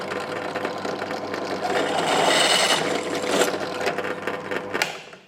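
An electric drill boring into a metal guitar pedal enclosure, producing a loud, continuous whirring grind close by that runs several seconds before the motor spins down and stops.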